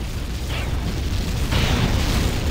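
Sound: enemy remote equipment destroyed in video game Tribes 2

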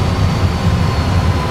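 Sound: Airbus A320 engine thrust bump in full flight simulator

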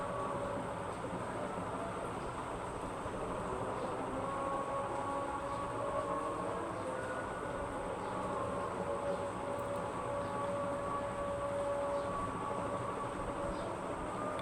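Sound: metro train arriving and departing

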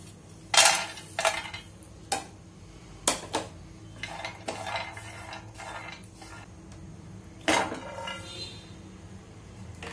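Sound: roasting cashews and pistachios in a pan

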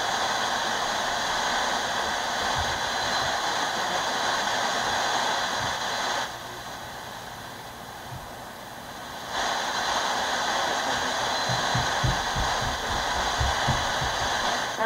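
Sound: FM radio station tuning in on a radio

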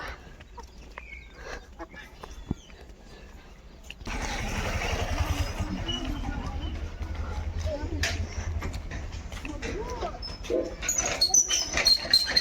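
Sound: dogs

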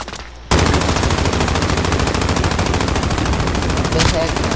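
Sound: gunfire from a video game

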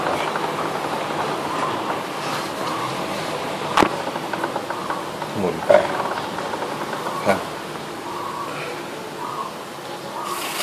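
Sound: Honda CBR650F motorcycle chain spinning during cleaning

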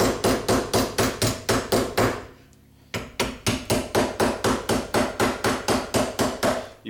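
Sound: hammer forming a metal rear rib

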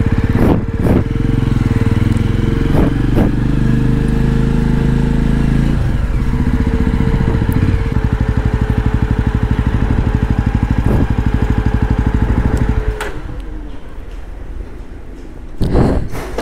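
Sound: motorcycle engine running

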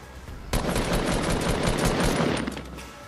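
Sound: gunfire from teammates shooting in Fortnite video game

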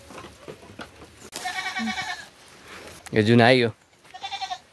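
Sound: goats bleating

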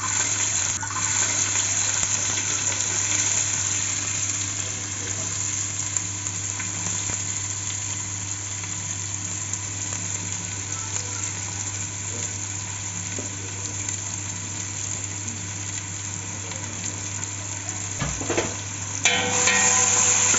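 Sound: onion frying in hot oil

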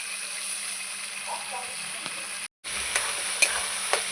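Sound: frying spices and potatoes with a little water

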